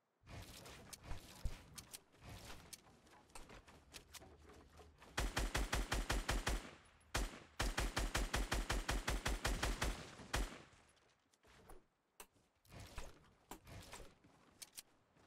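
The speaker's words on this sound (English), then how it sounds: "now I'm gonna shoot him" Rapid video game gunfire rings out while shooting at an opponent in a Blitz match, with sharp scattered shots, then two dense automatic bursts, and further sporadic shots toward the end, loud and close with no talk.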